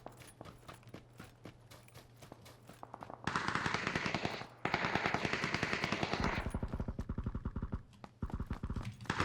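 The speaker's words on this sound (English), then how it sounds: "Shots were outside." Rapid automatic gunfire in a PUBG battle, bursts of sharp shots in quick rhythm, quieter at first and then loud, dense volleys with brief gaps between them.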